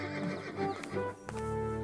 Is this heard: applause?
no